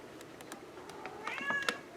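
A domestic cat meows indoors, a few short, close calls rising near the end over faint room noise.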